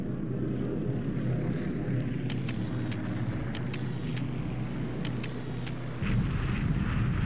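Bombing in the World War II strategy game War in the Pacific Admiral's Edition: a dense, steady rumble of explosions and engine drone, with repeated sharp crackling bursts layered on top and a slight rise in the roar near the end.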